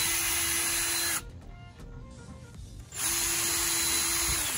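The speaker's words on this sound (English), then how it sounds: "I'm pre-drilling some holes in each one of them." A high-pitched power drill whines loudly pre-drilling holes in pallet wood, stops for a couple of seconds with faint clicks, then spins up again.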